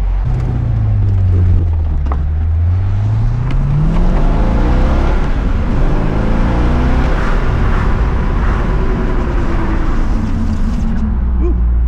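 Stock Chevrolet Corvette C6 Z06 fitted with radial tires and beadlock wheels accelerating on a road, a loud engine note rising steadily from inside the car with rumbling road noise and some talk.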